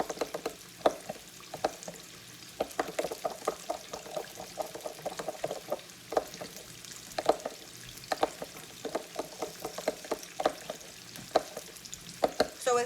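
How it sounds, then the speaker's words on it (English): A spoon stirs a syrup mixture in a bowl for a chicken-and-waffles recipe, giving repeated soft scraping and clinking taps in an irregular rhythm, close up, with no talking. "And just stir it up"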